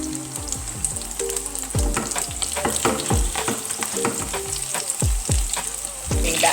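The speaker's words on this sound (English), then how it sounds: "As they fry along, the vegetables cooked into the flour, give it the flavor." Vegetable fritters frying in oil, a steady sizzle close by with repeated scraping and stirring knocks against the pan.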